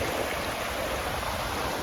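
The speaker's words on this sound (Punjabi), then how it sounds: "ਪਾਣੀ ਦਾ ਵਹਾਅ ਹੀ ਇੰਨਾ ਤੇਜ਼ ਆ" Steady, dense rush of floodwater in Ludhiana, Punjab, loud and continuous throughout with no pauses, like a strong current surging close by.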